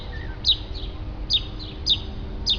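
Outdoor birds give short, bright chirps repeated about every half second to second, clear and fairly near over a low steady background hum.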